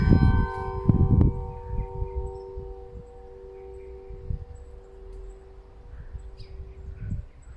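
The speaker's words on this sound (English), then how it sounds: "Oh, and there's the bells." Church bells ringing at the Adelaide Memorial Church, a few loud clanging strikes at the start with long ringing tones that fade slowly into quiet outdoor surroundings and faint birdsong.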